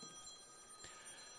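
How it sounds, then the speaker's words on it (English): A telephone rings faintly and steadily in the background of a high school football broadcast booth during a Fort Mill Yellow Jackets at Chester Cyclones game, with sustained ringing tones and a brief louder rustle partway through. "Jimbo, your phones are ringing"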